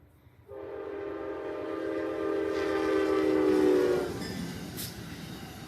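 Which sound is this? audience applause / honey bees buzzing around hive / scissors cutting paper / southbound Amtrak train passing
southbound Amtrak train passing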